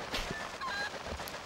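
Golden chicken from the video game The Legend of Zelda: Twilight Princess, giving a few quick honking clucks and squawks over a steady game background, fairly faint and up close.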